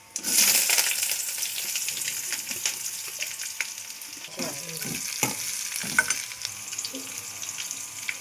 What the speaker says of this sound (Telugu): ఉల్లిపాయ పచ్చిమిరపకాయలు బాగా వేగిన తర్వాత